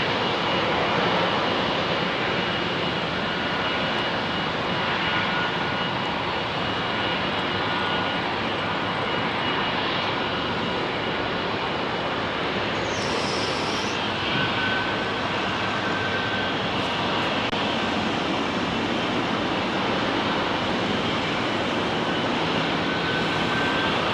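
A Boeing 787-9 Dreamliner departs London Heathrow runway 27R, its jet roar a steady, loud, continuous rumble heard alone for the whole stretch.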